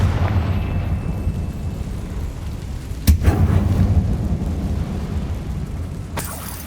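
A Confringo blasting spell bursts inside a closed mine tomb in Hogwarts Legacy, with a sharp, loud blast midway followed by a second crack near the end over a low rumbling backdrop.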